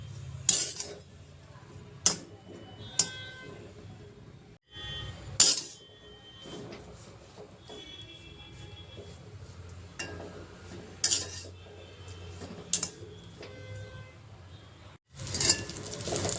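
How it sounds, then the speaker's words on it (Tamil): A spoon stirs and scrapes urad dal flour roasting in ghee in a metal pan, giving scattered clinks and knocks at an uneven pace with quiet pauses between them, close and moderately loud. "நம்ம இதை லேசாக கொத்தி விட்டு கொத்தி விட்டு கிண்டிக்கலாம்"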